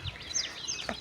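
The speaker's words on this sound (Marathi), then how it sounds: "कंटिन्यू पक्ष्यांचा आवाज येतो ह्या साईडला." Birds calling continuously near a patch of forest behind a house after rain: faint, thin chirps and whistles repeating over a soft outdoor hiss, with no talking.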